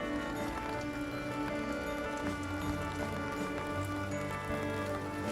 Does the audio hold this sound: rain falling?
yes